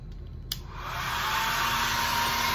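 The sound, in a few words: hair dryer blowing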